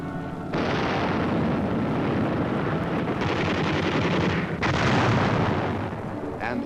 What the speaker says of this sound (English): And heavy artillery barrages.